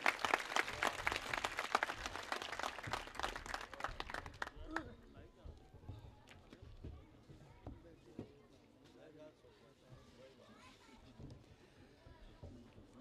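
Loud burst of audience applause and clapping at a poetry recital (mushaira) for about four seconds, then fading into murmuring and scattered voices.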